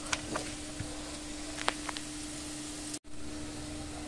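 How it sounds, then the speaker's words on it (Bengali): Tengra fish frying in oil, a steady soft sizzle with a few crackling pops, fairly faint and unbroken apart from a brief dropout near the end. "এভাবে তেলে ভেজে নেব একটু।"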